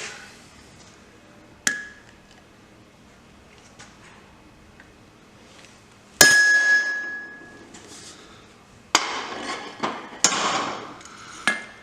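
Several sharp metallic strikes ring out, a blacksmithing hammer hitting a hot touchmark stamp tool on an anvil, with bright ringing decay between isolated blows and a quick cluster near the end.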